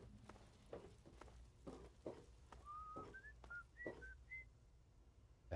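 Someone in Fallout 3 whistles a short tune of gliding rising notes at moderate distance, set against soft footsteps and faint background noise.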